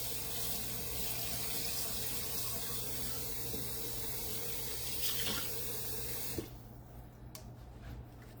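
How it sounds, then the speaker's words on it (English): Tap water runs steadily into a cooking pan in a kitchen, a loud continuous hissing flow for about six seconds. It then shuts off with a small clunk, leaving a faint room tone. "Then I'm gonna add some water to this pan right here."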